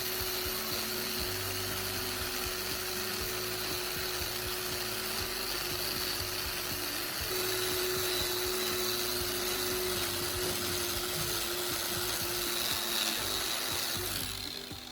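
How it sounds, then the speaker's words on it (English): A power grinder whines steadily as it polishes a hammerhead clamped in a vise, moving back and forth over the surface with a close, continuous abrasive rasp and a slight pitch shift midway. "I move the grinder back and forth over the surface to polish it"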